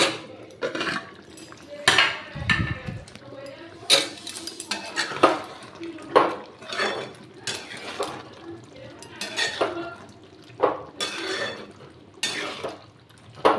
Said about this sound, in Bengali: দেখুন ঢাকনাটা খুলছি।